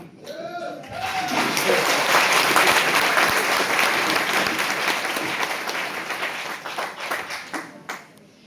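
Audience applause at a seminar in Ayodhya, a dense sustained burst of many clapping hands that rises quickly, holds loud for several seconds and gradually thins out, with a voice briefly at the start.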